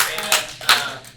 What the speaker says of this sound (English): I would like to give a hand of applause.